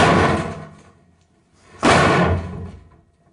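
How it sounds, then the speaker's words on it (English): A car rolling off a metal ramp, built as a film sound effect, gives two heavy metallic impacts with a ringing, clanging tail, the second louder and sharper, close up with no talk. "This is just giving you a metallic, ringy metal ramp sound."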